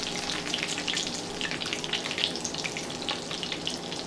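Salmon croquettes sizzle steadily in a hot frying pan, a close, dense crackle of spitting oil with no talk over it.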